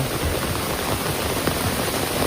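Heavy rain pours down steadily on an Assam village, a dense, even hiss of drops beating on surfaces with no break, close and loud throughout, no voices.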